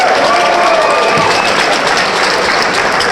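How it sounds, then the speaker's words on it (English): Sustained arena crowd applause for both fighters at an RFC 39 fight night in Tampa, Florida, a dense, steady wash of clapping with some cheering that fills the whole stretch without letting up. "let's have a nice round of applause for both fighters,"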